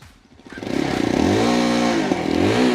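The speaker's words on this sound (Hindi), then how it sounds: "this is how the exhaust note sounds in the 2024 version of this YSD Adventure" A 2024 Yezdi Adventure motorcycle starts up and then revs, its exhaust note rising into a loud, close, steady engine drone with a brief blip near the end.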